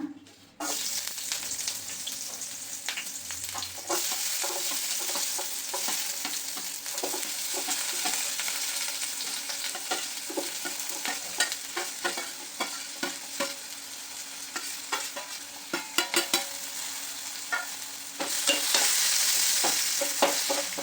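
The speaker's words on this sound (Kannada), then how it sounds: "ಅದನ್ನೆಲ್ಲ ಫಸ್ಟು ನಾವು ಎಣ್ಣೆಯಲ್ಲಿ ಹುರ್ಕೊಂಡ್ಬಿಡೋಣ" Ingredients for chicken chops fry in hot oil in a pan, a steady sizzle broken by repeated clinks and scrapes of stirring, close and alone without talk, growing louder near the end.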